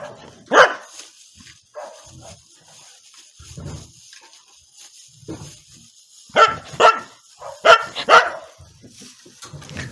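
A dog barking at home in a village, a few sharp single barks early on, then a rapid cluster of four or five close, loud barks near the end, separated by quiet pauses.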